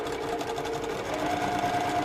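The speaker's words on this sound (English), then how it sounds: "I'm stitching a 1/4 inch away from that line" Sewing machine stitching a quarter-inch seam on a quilt block, a fast, even mechanical whir of needle strokes running continuously up close, with no talk.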